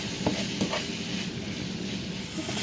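Ground beef with dry seasonings sizzles and browns in a pan for a low-carb cheesy beef casserole, a steady frying hiss broken by a couple of sharp stirring scrapes near the start.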